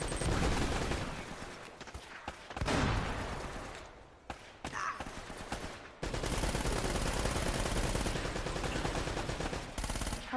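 Shots from a small handgun in an Uncharted game crack in quick repeated bursts amid loud combat noise, close and punchy, with brief lulls before the firing resumes strongly.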